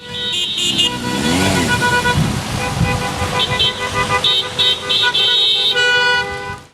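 Many car horns honk repeatedly and loudly during a motor rally of about 40 cars in support of Mariupol's defenders in Kropyvnytskyi, overlapping toots and long blasts filling the street with traffic noise.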